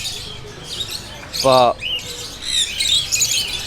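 Caged parakeets in a shop at a Thai market squawk in a short, loud burst with shrill chirps scattered around it, over busy market noise while a person speaks briefly.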